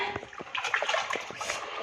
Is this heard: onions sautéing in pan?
no